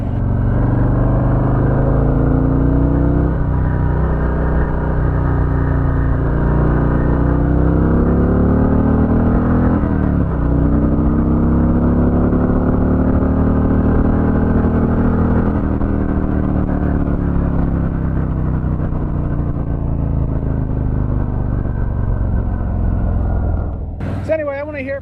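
A Milwaukee-Eight 114 motorcycle engine rumbles loudly and steadily, swelling through repeated revs with a deep, throbbing exhaust that carries on for the whole stretch before cutting off abruptly near the end.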